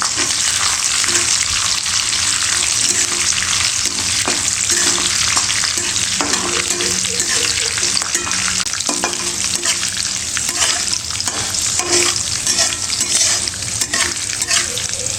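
Peanuts sautéing in a pan for Ravan Bhat, a Marathi spiced rice dish: loud, continuous frying sizzle with constant stirring and frequent scraping and clinking of the spoon against the pan throughout.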